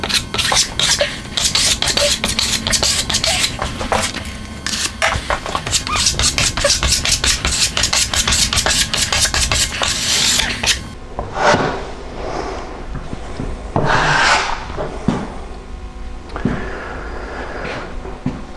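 Repeated rasping scrapes of a trowel spreading plaster over pre-fibred plasterboard joints, close and steady, softening into slower, scattered strokes later on.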